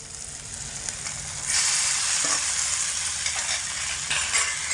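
Boiled taro leaf greens dropped into a hot frying spice paste, a steady sizzle that swells into a louder, broader hiss partway through and then keeps on, with faint clicks and scraping.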